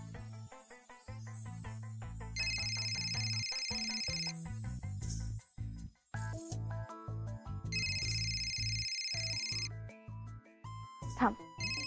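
A phone rings repeatedly and goes unanswered indoors, a steady melodic ringtone pattern that plays over several seconds amid background music, with a brief pause before it resumes.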